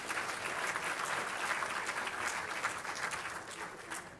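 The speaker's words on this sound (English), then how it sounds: "Let's give our winners a round of applause." An audience at a Lakewood community awards celebration applauds the winners, a steady wash of many hands clapping at moderate loudness with no clear pauses.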